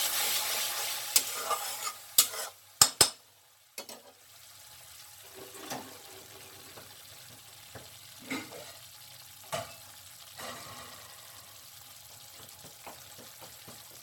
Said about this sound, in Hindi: अब इसमें से मैं हल्का सा स्टॉक इसमें डाल दूंगी और इसको फिर से मिला दूंगी